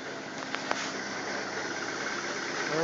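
A 1995 Dodge Stratus with a 2.0 engine idles after a cold start on a freezing day, a steady, even engine hum running throughout with no talk over it.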